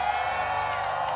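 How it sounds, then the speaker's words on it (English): Crowd cheering at the Pokémon UNITE North America International Championships finals in Honolulu, a brief burst of whoops and shouts from the arena audience with commentary over it. "If you're cheering for one of these squads, I would make them hear it right now."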